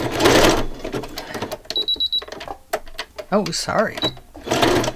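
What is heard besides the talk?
sewing machine sewing a December Daily album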